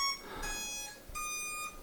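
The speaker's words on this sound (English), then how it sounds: "And we're hearing the chime." A Gladius V2 underwater ROV plays its startup chime: two sustained bright electronic tones, each held about half a second with a short gap between, heard close and clear in a quiet room.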